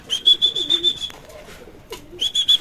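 Pigeons cooing close by in a short burst of soft, low rolling coos, with a bright high tone running through in two stretches.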